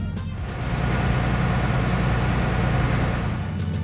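A vehicle engine runs rough with one fuel injector disabled, giving a steady, close, low droning idle that holds unbroken throughout with no voices.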